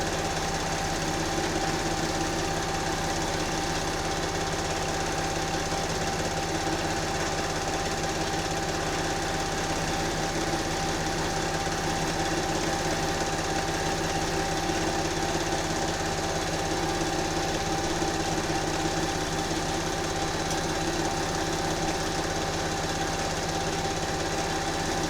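Sewing machine quilting over fabric, tracing inside the letters, with a continuous loud mechanical buzz that runs unbroken the whole time and no talking.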